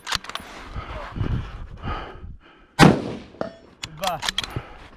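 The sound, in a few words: gunshot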